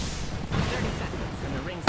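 Dense, continuous gunfire and explosions from an Apex Legends firefight fill the clip, a loud sustained barrage of bursts and pops with no clear gaps.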